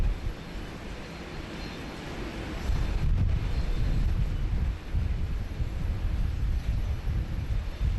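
A Boeing 737 BBJ business jet arrives at Sydney Airport after a short flight from Canberra, its low engine rumble swelling louder partway through and holding steady, with wind noise and no speech.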